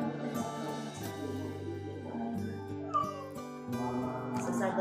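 A cat meows while its teeth are brushed, giving drawn-out, wavering cries mixed with a person talking close by.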